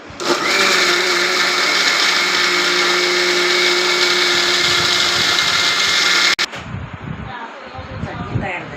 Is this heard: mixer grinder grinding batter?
yes